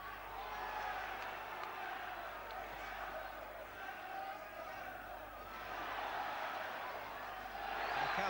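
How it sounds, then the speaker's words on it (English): Crowd at a British Super Featherweight Championship boxing bout reacting to punches, a rising and falling murmur and shouts that swell near the end, with a commentator talking over it. "The crowd are echoing any success he's having with the punches there."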